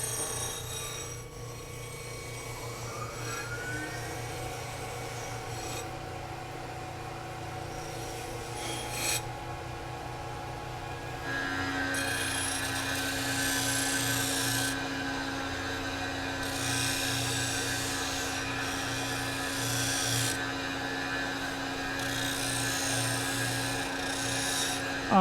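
A metal part is deburred by hand with rhythmic rasping strokes while a CNC machine, a Tormach PCNC 1100, runs nearby with a steady whine and hum that grows louder partway through.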